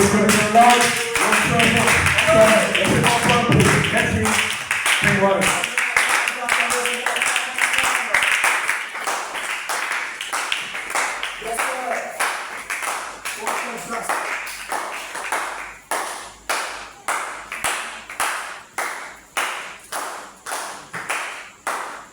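Church congregation clapping in acclamation, dense rhythmic hand claps under singing and voices at first, thinning into sparse, sharp individual claps with people talking.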